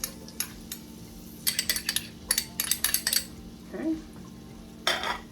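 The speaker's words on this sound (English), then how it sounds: "We're gonna go ahead and just add our onions." Onions added to a hot pan with melted fat for Southern collard greens, stirred with a wooden spoon; a series of clinks and scrapes from cookware with faint sizzling underneath, close by.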